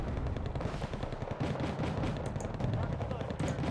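Continuous rifle and automatic gunfire rattles throughout a battle in the real-time strategy game Wargame Red Dragon, with dense overlapping shots and a steady rumble underneath.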